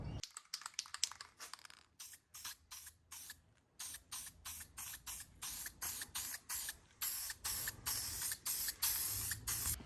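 A car sway bar gets spray painted in a run of short aerosol hisses of varying length, close to the mic, separated by brief gaps, with a light rattle between bursts and no talking.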